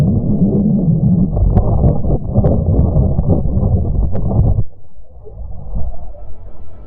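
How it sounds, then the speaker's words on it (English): Earth's magnetic field as picked up in space by the Italian Spring Accelerometer aboard the BepiColombo spacecraft, rendered as a dense, rumbling roar with faint tonal whistles that drops abruptly to a quieter, hollow drone. "That was the sound of the Earth's magnetic field as recorded by the Italian Spring Accelerometer on"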